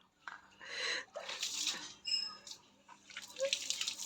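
Water runs and splashes for a morning bath, close and fairly steady with uneven surges, and a voice is heard faintly.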